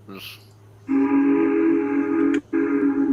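The steam locomotive whistle of Timothy the Ghost Engine sounds loud and close after a brief voice: a long, sustained, harmonic blast, then a short gap and a second blast.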